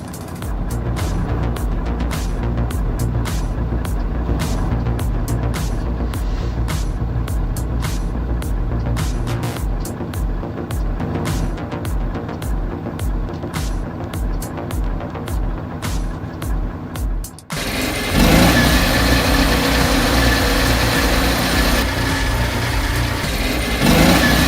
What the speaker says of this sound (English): The 350 HP Panguapuli logging truck, carrying 20 tons of wood, faces a steep hill and sharp turn.